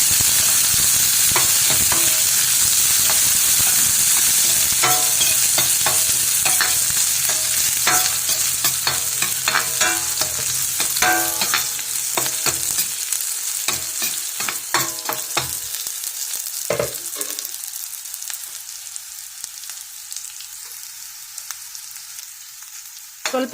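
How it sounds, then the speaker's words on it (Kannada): Onions fry and are stirred in a pan for village-style wild mango gojju, a loud close sizzle broken by repeated sharp scraping strokes of a spoon, the frying thinning and quieting toward the end with no talking. "ಚೆನ್ನಾಗಿ ಹುರಿದ್ಕೊಳ್ಳೋಣ ಈರುಳ್ಳಿ."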